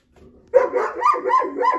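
A dog indoors barks through a window at a cat outside, a short run of four or five loud, close barks after a faint whimper.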